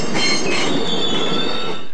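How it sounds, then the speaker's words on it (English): New commuter trains in Wellington screech loudly on the rails. The piercing, sustained metallic squeal fills the whole moment without letting up. "they come through, they're screeching really, really loudly"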